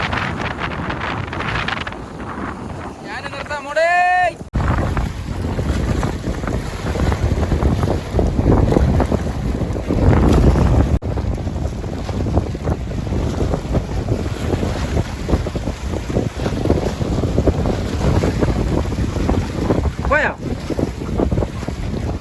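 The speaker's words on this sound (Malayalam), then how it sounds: "തിരമാല ഇതാണ് കേട്ടോ." Loud, rushing sea waves and wind roar around a fishing boat at sea off Saudi Arabia, a constant wash of water noise with a brief whine early on.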